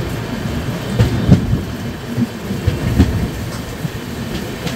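A passenger train rolls along its rails while taking a curve, giving a steady loud rumble with rhythmic clacking and occasional heavier knocks, heard from inside the moving coach.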